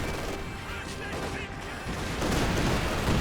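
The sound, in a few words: Centaur tank firing at MG42 in Company of Heroes 2 video game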